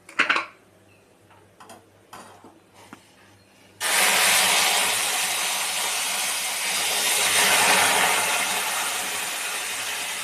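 A sudden loud, steady hiss and sizzle of boiling water poured into a hot pan for upma, continuing broadband after a few faint ticks and clicks.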